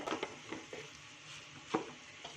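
Tomato bath mixture is stirred in a pan, with faint, soft scrapes and light taps of a spoon against the pan at irregular intervals, quiet and close with no voices.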